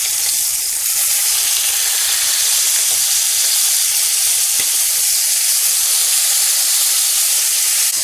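Pork sizzling on a hot grill as it is turned, a loud steady hiss of frying fat with scattered crackles, close and continuous with no talking.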